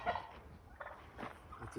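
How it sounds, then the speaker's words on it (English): Turkeys gobbling outdoors: faint, distant bursts of rapid warbling gobbles, a few short calls spread across a quiet background. "that's the turkeys."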